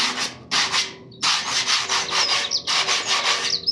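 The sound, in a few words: sanding epoxy primer with sandpaper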